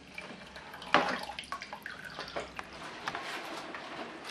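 Homebrewed wort for a Simcoe IPA is poured back into the mash tun during recirculation, giving quiet splashing and dripping liquid sounds, close and soft, with irregular small spatters.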